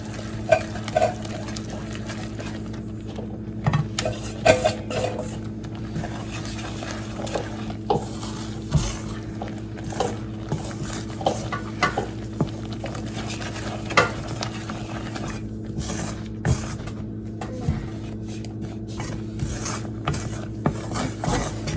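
A spoon scrapes and stirs gram flour into hot sugar syrup in a pan for Mysore pak. Repeated rhythmic strokes play over a constant low sizzle and kitchen hum.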